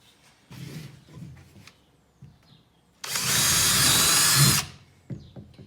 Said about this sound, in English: you'll want to use a little bit of a larger drill bit to drill those holes